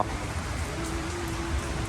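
Steady rain falls at the Chatuchak plant market in Bangkok, a dense, even hiss of drops on surfaces that fills the whole moment with no voices.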